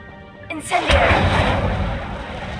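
Incendio fire spell cast in Hogwarts Legacy: a voice shouts the incantation, then a loud close burst of roaring flame booms out and fades into a sustained rumbling crackle.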